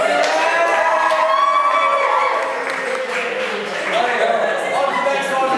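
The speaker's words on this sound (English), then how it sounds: "Round of applause for the rest of the week, because I'm not here." A live audience cheering, whooping and clapping in a continuous loud wash of voices, with some shouting standing out above the crowd.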